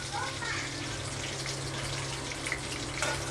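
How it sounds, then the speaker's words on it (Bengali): Pieces of fish fry in hot oil in a pan in a home kitchen, giving a continuous soft sizzling hiss while someone talks over it. "নামিয়ে বাকিগুলো আমি এইভাবে ভেজে নেব"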